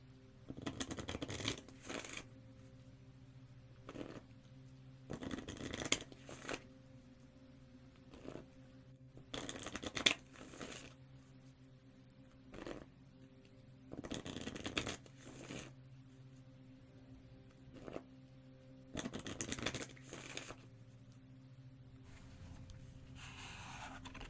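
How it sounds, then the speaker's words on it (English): Moon Oracle cards are shuffled and drawn during a quiet ASMR tarot reading, producing soft, crisp bursts of papery shuffling separated by near-silent pauses. "Next, I'm going to pull some Moon Oracle cards."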